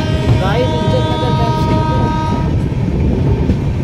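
A passenger train in Uttar Pradesh rolling on rails past Jasoda railway station, heard loud and close with steady rumbling wheel noise and a sustained horn-like tone early on, on a rainy trip from Lucknow to Farrukhabad.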